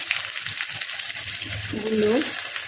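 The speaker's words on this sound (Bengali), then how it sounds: "এইগুলোকে একটু ভালো করে ভাজবো আলুটাকে।" Potatoes frying in a pan, with a continuous close sizzle and light stirring scrapes, and a brief tonal whine partway through.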